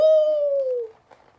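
An owl hoots once at night outdoors, a single drawn-out, steady, fairly loud tone that slowly drops in pitch and fades into quiet.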